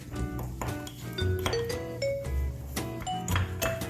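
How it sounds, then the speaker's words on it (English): A fork clinks repeatedly against a cup while stirring Oreo mug cake batter, producing bright, ringing glassy taps in an irregular rhythm, close and moderately loud. "Sorry about the cup noise."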